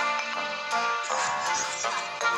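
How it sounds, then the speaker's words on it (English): Harsh buzzing glitch tone from a Nintendo Wii after it was turned off, a sustained distorted electronic drone that stutters and shifts in pitch, loud and unbroken. "That's why you never turn off the Wii and it sounds like this"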